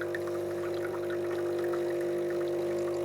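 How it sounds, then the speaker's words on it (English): Water from a coffee machine's rinse cycle streams steadily into a small cup, a continuous close pouring hiss with a faint machine hum beneath, no talking. "put a small cup inside and rinse the machine, which just warms it up"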